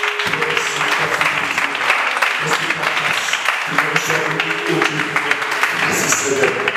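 A church congregation applauds steadily throughout, with dense clapping mixed with cheers and a preacher's voice speaking over it.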